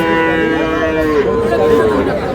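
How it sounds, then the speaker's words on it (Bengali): Cattle at a livestock market in Munshiganj low in a long, loud, close moo that wavers in pitch, with faint crowd murmur beneath. "ষাঁড়"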